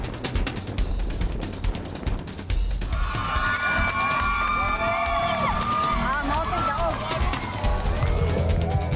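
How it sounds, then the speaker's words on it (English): A roadside crowd at the Ironman Davao triathlon cheers and shouts for the race leader, a sustained loud mix of voices and whoops, with a burst of nearby clapping and noise at the start. "the crowd is going crazy for our current leader here in Davao"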